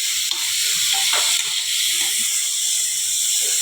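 Cauliflower florets frying in an oiled wok for a paratha filling, giving a loud, steady close hiss of sizzling oil throughout, with faint scrapes and clatters underneath.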